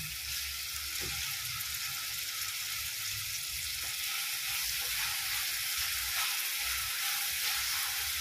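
Chhana and capsicum pieces sizzle steadily in a hot pan, a continuous bright frying hiss with faint occasional stirring clinks, close and constant throughout.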